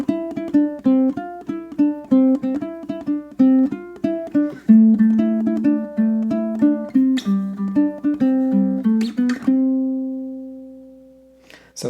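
A full punk rock riff on ukulele, cycled through once: a steady stream of bright, clipped notes in a driving rhythm with a few sharp strums, ending on a sustained note that fades. Played close, with no talk.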